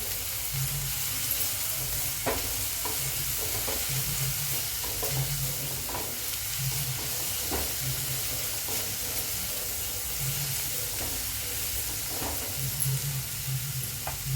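Coarse garlic and green chilli paste sautéed in a pan for a sorghum usal, giving a steady sizzle with repeated stirring scrapes throughout, close and moderately loud, with no talk.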